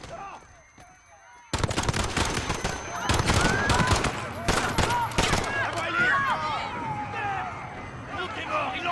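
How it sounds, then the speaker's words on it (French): Rapid bursts of automatic gunfire erupt after a quiet opening, loud and dense, mixed with shouting voices and chaotic crowd noise throughout, in Call of Duty: Modern Warfare's Piccadilly Circus mission after a detonation. "Il y a eu une détonation à Piccadilly Circus. Des coups de feu, plusieurs agents touchés."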